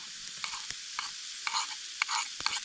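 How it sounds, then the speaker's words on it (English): Shallots sizzle steadily in a pan over a small twig stove outdoors, a constant frying hiss broken by several soft stirring scrapes and clicks, close and fairly quiet. "Nothing better than the smell of frying onions."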